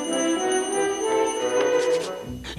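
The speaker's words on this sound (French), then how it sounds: "petit piège et petite cloche pour m'avertir de sa descente" A small bell rigged to a trap as a warning for Santa Claus coming down the chimney rings with a steady, sustained tinkling tone. It continues for the whole moment and ends with a short bump.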